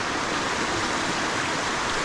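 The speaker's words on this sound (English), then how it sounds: "there's a lot of water because you're in a very rainy season" Water gushing under a rural bridge in Africa during the rainy season, a loud, steady roar of rushing water running unbroken and close by, with no voices.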